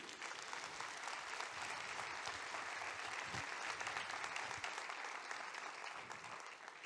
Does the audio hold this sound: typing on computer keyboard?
no